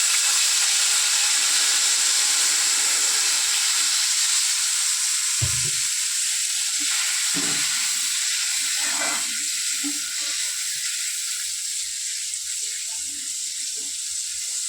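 Water poured into well-heated cooking oil in a pan sets off a loud, steady hiss and crackle that fills the whole stretch, close and continuous, with a few splashing pops partway through.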